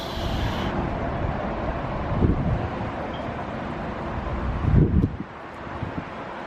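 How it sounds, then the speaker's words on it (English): Steady roar of outdoor road traffic in Ohio on a spring afternoon, a broad continuous rumble with wind buffeting the microphone and two louder swells as vehicles pass close by. "Lots of traffic noise, of course."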